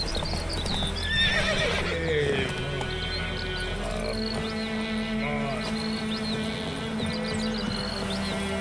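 Roach the horse from The Witcher gives a whinny over steady clip-clopping hooves, with insects chirping in the background.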